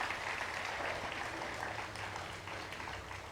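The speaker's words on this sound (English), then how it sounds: "give those teams a loud round of applause" Audience applause for science fair teams at a national STEAM fair, a steady wash of many hands clapping that fills the room evenly, moderately distant and without a break.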